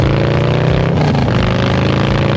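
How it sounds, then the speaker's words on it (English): Harley-Davidson Low Rider with an SP Concept big bore exhaust runs nearby, a loud, deep, continuous rumble with throbbing pulses and no voices. "SP Concept big bore exhaust."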